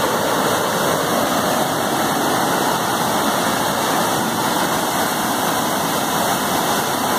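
Heavy water rushes steadily under the Gangorra bridge as a loud, continuous roar with no break, close by and with no voices.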